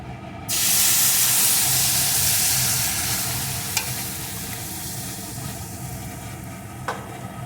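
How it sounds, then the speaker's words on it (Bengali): Thickened milk poured into semolina fried in ghee with bay leaf, a sudden loud hiss and sizzle that settles into steady bubbling, with occasional scrapes of stirring. "এখন আমি এর ভিতরে জাল করে রাখা ঘন দুধটাকে ঢেলে দেবো"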